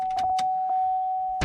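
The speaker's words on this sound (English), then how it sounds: "When I hop up in here and turn the key" Ignition key turned in a 2003 Chevy Silverado 1500, setting off a steady electronic chime with short clicks and key jangles around it, close and brief.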